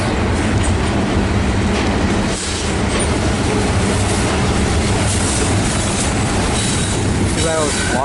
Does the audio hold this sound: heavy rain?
no